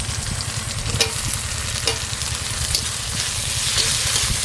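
Chopped tomato, ginger-garlic paste and masala frying for a samosa filling, a steady close sizzle with soft scraping stirs and a couple of sharper clinks, continuous throughout.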